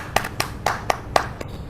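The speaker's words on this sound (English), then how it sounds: "So let's all clap for her." Scattered clapping from a small group of people honouring a paediatric resident winner at a medical awards event, a handful of separate sharp claps spread unevenly over a moment.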